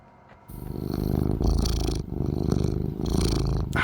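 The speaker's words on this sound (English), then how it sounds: "Ah, the purrs of Happy Cat Lady." A cat purrs in the video game Alan Wake, a close, loud, rhythmic rumbling purr that runs continuously after a brief quiet start, with short breaks between breaths.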